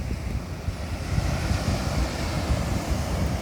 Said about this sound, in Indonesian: Pantai Padang yang sekarang, yang memang benar-benar bersih ya teman-teman.